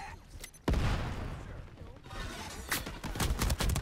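Default-weapon gunfire in the Shatterline shooter game: a sudden loud burst followed by rapid automatic volleys that swell toward the end, layered with other game effects.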